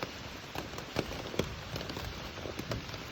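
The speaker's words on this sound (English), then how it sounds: "Just doing this because I like the sound of the rain on the tent." Rain patters on a tent at night during a backpacking trip after thunderstorms, a soft, continuous hiss with scattered quiet drips and taps, faint and steady.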